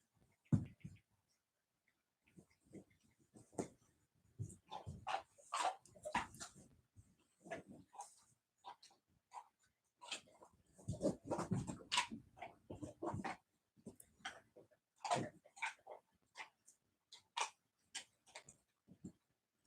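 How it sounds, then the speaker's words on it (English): A dog gnaws on a rawhide chew nearby, giving irregular bursts of wet chewing, clicking and crunching spread across the whole stretch, with short pauses between bouts and no talk over it. "that is our dog Rocky working on a rawhide"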